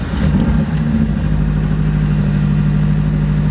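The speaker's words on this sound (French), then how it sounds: "Le régime moteur est un peu haut, mais j'ai le starter qui est mis en place aussi, qui est actionné donc c'est normal" A car engine idles steadily at an elevated speed with the choke engaged, just after a brake servo repair; a close, continuous hum with a brief blip near the start and no talking.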